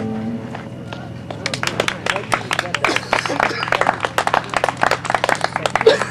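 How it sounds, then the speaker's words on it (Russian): Audience applause after a bard's song at a Russian-language outdoor gathering in California begins after a quiet opening, swelling into scattered then fuller clapping from a modest crowd, with faint voices underneath. "Да, аплодисменты я уже слышу."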